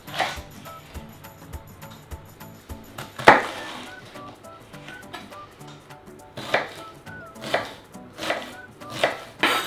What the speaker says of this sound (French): Et donc là, on va les trancher en 2.